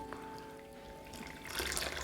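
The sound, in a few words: pouring fresh water onto soaking rice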